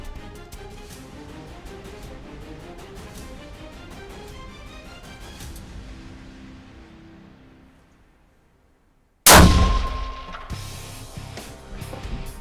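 A hunting rifle fires at a mature whitetail herd buck, one sudden, sharp, very loud blast after a quiet stretch, followed by a ringing, fading tail.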